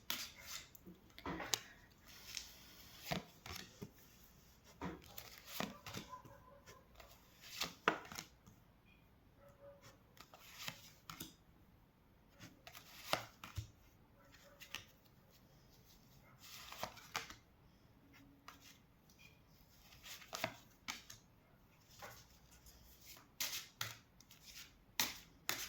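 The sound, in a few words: shuffling and drawing tarot cards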